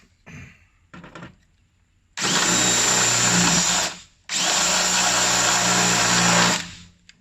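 A power tool drives a fender bolt on a 2018-2020 Jeep Wrangler JL: two sustained, loud whirring bursts of about two seconds each, separated by a brief pause, after a few faint clicks and handling noises.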